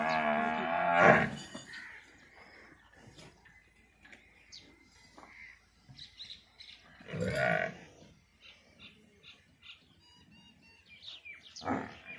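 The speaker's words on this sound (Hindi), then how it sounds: "अब चलना शुरू हो गई हैं, तो आपको दिखाते हैं जी सारी भैंसें साथ साथ।" A herd of milk buffaloes lowing as they start to walk off together outdoors. Two loud, deep moos come close by, one at the start and one midway, with faint bird chirps and scattered quiet sounds between.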